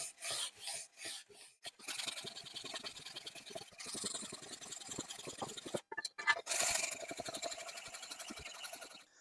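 A sanding block rubs back and forth over the raised letters of an aluminium spark plug cover from a C20XE/C20LET engine, a close, rhythmic rasping scrape in short repeated strokes with brief pauses.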